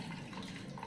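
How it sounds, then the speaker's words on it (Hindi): Yakhni stock water pours into a pot of rice for beef pulao, a brief, faint, steady gush of liquid with no talk. "और अब मैं इसमें शामिल कर दूँगी ये यखनी का पानी"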